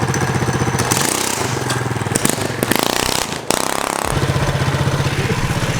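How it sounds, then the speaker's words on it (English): Mini bike engine revs hard and loud up close, a steady throaty drone that dips briefly in the middle before surging back to full throttle as the bike lifts into a wheelie. "I'm gonna gun it and it's gonna bust a wheelie."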